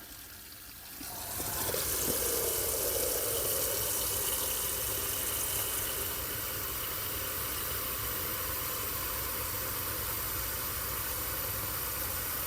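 Water runs steadily from a tap into a basin in a care setting, a constant close rushing hiss that starts after a second and continues alone.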